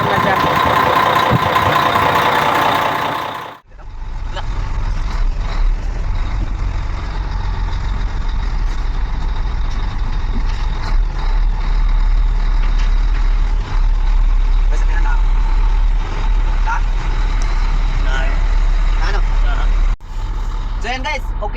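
A Weichai diesel engine drones steadily in a truck on a road test, a loud continuous low rumble with cab and road noise that holds for most of the stretch after a short burst of other sound at the start.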